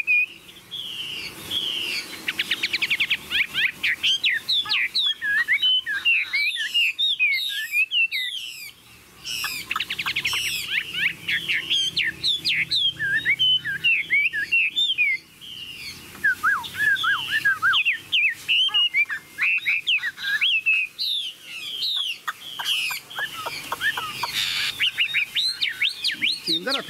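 A tame Chinese hwamei song thrush sings a long, loud run of varied whistled phrases and rapid trills, close by and nearly continuous with a few short breaks.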